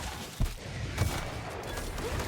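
Gunfire in The Outer Worlds, aimed at a creature's leg: two separate sharp shots about half a second apart over a steady, noisy combat background, moderately loud and with no talking.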